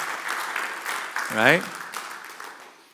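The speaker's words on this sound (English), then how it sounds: "That deserves a hand clap if you haven't picked it up." A church congregation gives a round of hand clapping during a Sunday sermon, a steady, moderate patter that swells briefly and then fades, while a preacher speaks over it.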